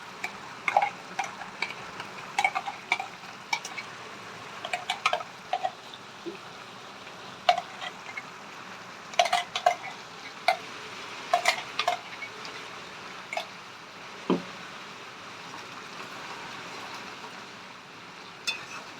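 Spoon stirring fried spice paste, ground without water, into meat in a pot for Dhaka-style kosha mangsho; soft irregular scrapes and clinks, sparse and close, with no talk.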